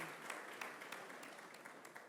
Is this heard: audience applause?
yes